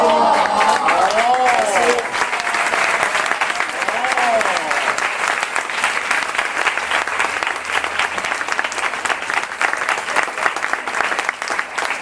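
Sustained audience applause for teachers at a school event, broad steady clapping from many hands filling the whole stretch, with brief vocal sounds near the start.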